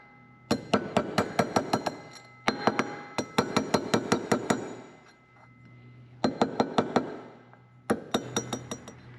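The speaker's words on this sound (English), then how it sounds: "we'll put our spring nut back over that and tap it in" Metal spring nut being hammered into a Yamaha Wolverine RMAX 1000 secondary clutch: bursts of sharp, ringing taps in quick rhythmic runs of five to eight strikes, close and loud, with short pauses between bursts.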